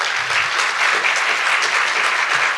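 An audience at an oral presentation session claps for a presenter, a continuous even wash of many hands lasting a few seconds without letting up.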